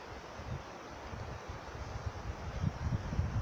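Wind gusts and rumbles against the microphone in a steady, low blustery wash that swells slightly toward the end, with no talking.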